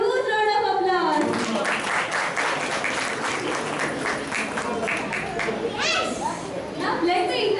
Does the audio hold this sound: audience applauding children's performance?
yes